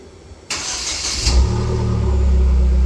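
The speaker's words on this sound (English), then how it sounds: "That means the car is started." A Hyundai Genesis engine cranks and catches by remote start after a brief electronic chirp, then settles into a steady idle rumble.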